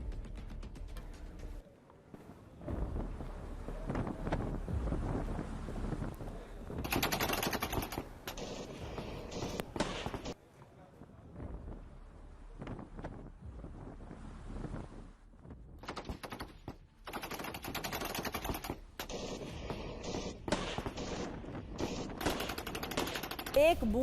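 Gunfire from a released video of a firefight between Pakistani troops and Baloch rebels comes in repeated rapid bursts of shots at moderate distance, separated by short quiet gaps, with a voice speaking intermittently over it.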